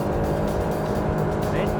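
An ABJET speedboat engine at about 5,000 RPM while cruising at 20 knots, a steady loud droning roar with water rush, unbroken throughout.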